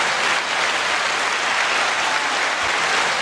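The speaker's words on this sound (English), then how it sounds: "You can't clap any faster." Dense, rapid clapping from several people, steady and loud for the full few seconds with no voices over it.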